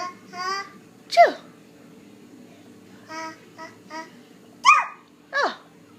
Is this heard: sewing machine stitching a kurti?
no